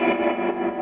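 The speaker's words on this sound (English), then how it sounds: "whenever I hear that old sound, I want to hear the reverb going like that" An electric guitar plays through an old-style amp with reverb and tremolo, giving a brief sustained, shimmering, washy chord with no talking.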